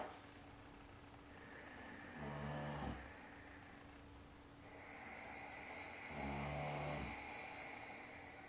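Ujjayi pranayama breathing through the nose, a soft hissing, snore-like throat sound heard in two slow, quiet breath cycles, each swelling and fading, recorded close up in a calm room.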